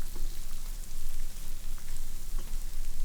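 Tomatoes sizzling steadily in a hot frying pan alongside corned beef, a dense crackling hiss with scattered pops, close and continuous without talk.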